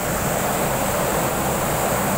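Water pours down steadily inside an HVAC cooling tower, a dense, even roar of falling water heard close, with no voices.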